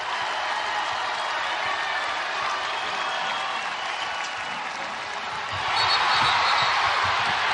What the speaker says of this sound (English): This crowd is up and loving it.